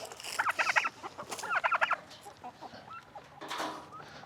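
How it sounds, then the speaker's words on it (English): Chickens clucking around scratch feed on a farm, a busy cluster of close clucks and squawks in two bursts, then softer scattered calls with a louder squawk near the end. "we'll put out a little scratch for my chickie chicks"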